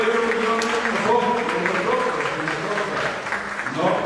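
Audience applause at a Bolivarian active reserve gathering honoring Guaicaipuro, a steady broad crowd clapping that fills the whole moment at moderate level, with voices mixed in throughout.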